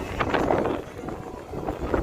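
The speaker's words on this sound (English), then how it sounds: "why does the wind always kick up whenever we walk outside the door" Gusty wind outdoors on a Las Vegas street at night, a broad steady rush buffeting the microphone for the full two seconds with no clear talk over it.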